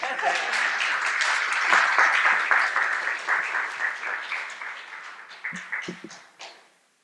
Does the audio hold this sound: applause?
yes